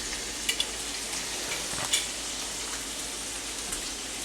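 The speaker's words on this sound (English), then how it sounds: "Oh, that's sizzling." Steady, close crackling sizzle of food frying in a pan, with a couple of brief clinks and pops over the continuous hiss.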